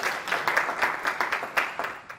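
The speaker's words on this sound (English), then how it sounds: "Let's just give them a round of applause" Light, sparse clapping from a small audience at a diversity-in-STEM panel session, a handful of distinct claps in an uneven rhythm that stays modest and fades toward the end.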